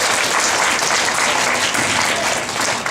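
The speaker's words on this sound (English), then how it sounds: "Let's give a big round of applause for Mr. Oren Burks." Steady, loud applause from a large crowd at an elementary school assembly, sustained clapping throughout with no pause.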